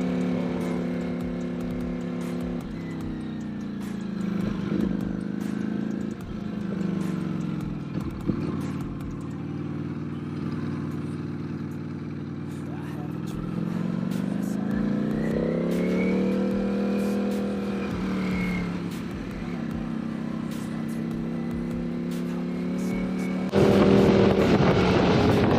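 Ducati Panigale motorcycle riding along a mountain valley road, a steady engine drone whose pitch sinks and climbs again as the bike shifts speed, continuous and up close with no voices.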